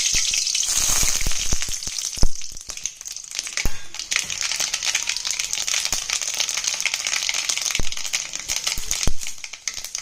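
Mustard seeds and curry leaves sizzle steadily in hot oil in a pan while being prepared for bottle gourd rice, with continuous frying hiss and sharp crackles and pops from the seeds bursting.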